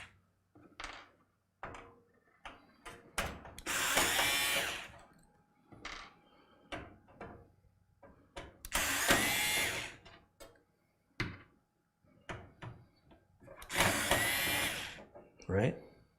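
A power screwdriver removes the four screws holding the rear case fan of an NZXT H210 mini-ITX PC case, running in three loud whirring bursts of about a second each, with a voice talking in the pauses between them.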